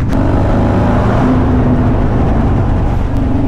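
Steady engine rumble from a 2024 Harley-Davidson Road Glide motorcycle with a 21-inch front wheel, heard while riding, with a continuous loud drone and wind noise throughout and no talk.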